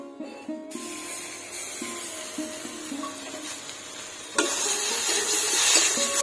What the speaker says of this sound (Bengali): সবকিছু ভালো করে ভাজা হয়ে গেছে, এখন দিয়ে দিব জল।